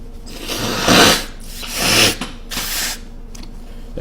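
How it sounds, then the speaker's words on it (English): A person blows their nose in two or three long, close, rasping bursts, with faint rustling between and no talk. "Gotta blow my nose."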